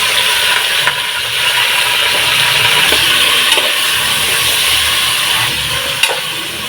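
Meat pieces frying in a pan of oil with chopped onion give a steady broadband sizzle and hiss, fairly loud and continuous, with a few small clicks and stirring knocks along the way.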